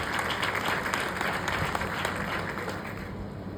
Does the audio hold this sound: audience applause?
yes